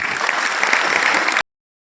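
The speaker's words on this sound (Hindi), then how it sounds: "जोरदार तालियां" Enthusiastic applause from an audience at a success-story talk, a dense, loud burst of clapping that continues evenly before cutting off abruptly into silence.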